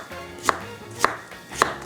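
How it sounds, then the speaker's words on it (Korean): A knife chops through radish, cutting it into thin julienne strips for a seasoned side dish, with three crisp, evenly spaced strokes on a board, close and clear with no talking. "이대로 썰어주시면 무, 채 쫙 나오지요."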